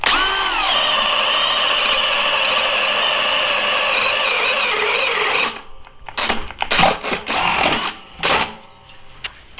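A Craftsman brushless cordless drill bores a hole at low speed with a loud, steady whining motor for about five seconds, then stops, followed by scattered clunks and handling noises.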